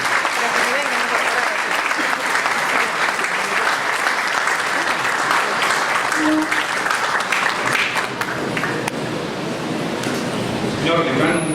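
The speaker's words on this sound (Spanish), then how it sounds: "Brindémosle un fuerte y caluroso aplauso al doctor Juan Monroy Galvez" An audience at a legal lecture gives sustained, loud applause for Dr. Juan Monroy Galvez, a thick, continuous wash of clapping filling the whole stretch with little change.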